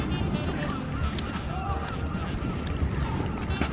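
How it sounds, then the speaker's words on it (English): Many birds call at a British seaside beach at sunset, their faint cries and honks scattered through steady wind noise on the microphone. "There's a lot of birds,"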